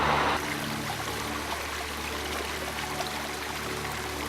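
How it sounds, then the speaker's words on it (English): Rainwater running off paved roads into a storm drain, a steady trickling, pouring flow that starts with a brief louder burst and then continues evenly and moderately close. "As rain falls on paved roads and rooftops, the water quickly flows into storm drains"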